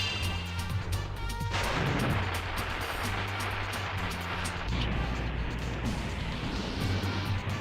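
Explosions in the video game Spyro 3: Year of the Dragon, rough crashing blasts that surge in waves over tonal game music, loud and harsh.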